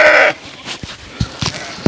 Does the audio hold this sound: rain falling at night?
no